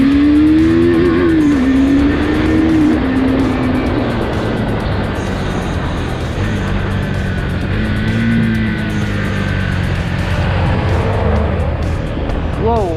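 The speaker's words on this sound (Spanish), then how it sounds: "Es una moto que jala durísimo." A Husqvarna Svartpilen 401 motorcycle accelerates hard on a test ride, its engine droning loud and steady throughout with rising and falling pitch under heavy wind rush.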